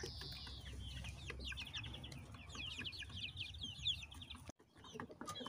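Several chicks cluck and peep in rapid, overlapping calls, fairly close by, with a low background hum and a short break near the end.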